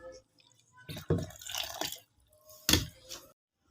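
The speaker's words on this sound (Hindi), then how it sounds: "इसके अंदर मैं जो दूध हमारा पड़ा है बचा हुआ है वो मैं इसमें डाल देती हूँ" Leftover milk is poured into a jug while making kheer sharbat, heard as two short splashing, gurgling bursts of liquid up close, separated by a brief quiet gap.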